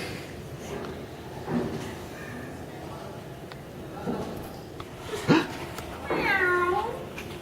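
A human voice performing a puppet cat imitates meowing, with several drawn-out meows at moderate loudness, the last one longest, over a murmuring background.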